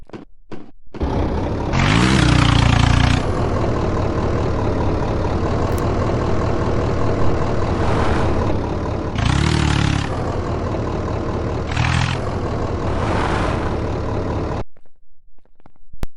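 An Indofarm tractor engine in an Indian village-life simulator game runs loudly and steadily, with a low rumbling idle that surges into louder revving bursts several times before cutting off abruptly at the end.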